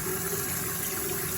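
Water runs nonstop through a faulty Sloan urinal flush valve that will not shut off, a steady, close hiss and rush that keeps going without a break.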